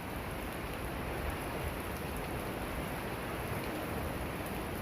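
Steady rain falls with an even, continuous hiss throughout, moderately faint and with no voices.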